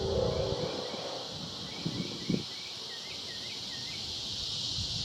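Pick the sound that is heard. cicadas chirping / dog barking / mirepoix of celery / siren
cicadas chirping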